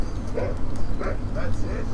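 A dog barks in the Western video game Red Dead Redemption, several short barks spaced through the moment over a low rumbling background, while a person talks over it.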